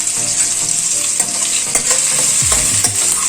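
Sambar ingredients with onions and salt fry in a pan, giving off a loud close sizzle while a spoon stirs and scrapes them in short repeated strokes, knocking against the pan without any voices.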